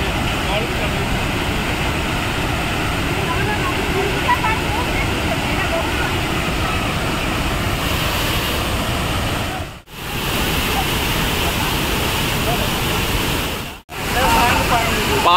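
Gundicha Ghaghi waterfall in Odisha roars as a steady, loud broadband rush of falling water, continuous throughout with two brief dropouts near the end.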